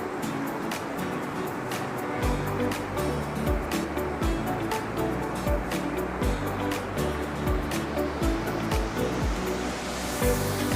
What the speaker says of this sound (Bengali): আর এই দেখো জলটা কিরকম বয়ে যাচ্ছে